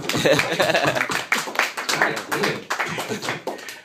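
Clapping at a comedy stand-up show, several sharp, close taps and claps scattered through loud, lively talking and laughter from the room.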